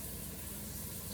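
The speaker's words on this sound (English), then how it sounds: "rinse this spoon off." Steady running tap water splashing continuously while rinsing a spoon, close and fairly even throughout.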